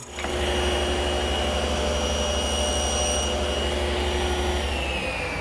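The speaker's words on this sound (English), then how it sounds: "using my dedicated mortiser with a 1/4 inch square chisel" A dedicated hollow chisel mortiser with a 1/4 inch square chisel cutting mortises for the back rails of a table, its loud steady motor drone running continuously throughout with no voices.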